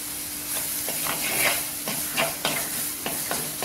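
Masala powder for a fish curry sizzles softly in a hot pan while a spoon stirs and scrapes it in uneven clicks close by. No one speaks.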